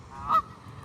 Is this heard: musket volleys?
no